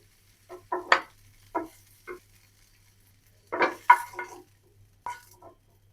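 Cauliflower pieces fry in oil with a pinch of turmeric in a pan, heard as scattered bursts of stirring scrapes and brief sizzles separated by near silence, with no talking.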